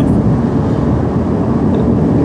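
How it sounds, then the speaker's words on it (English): Inside a car on rough roads, a loud, steady low rumble of road noise fills the cabin without a break, with no talk heard. "sorry for the noise, it's just rough roads here"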